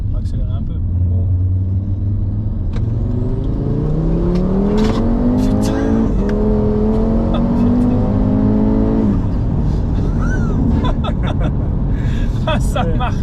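An Audi RS3 stage 3 five-cylinder running on ethanol and making over 500 hp accelerates hard, its engine note climbing steadily in pitch for several seconds and then cutting off abruptly as the revs drop, close and loud inside the car.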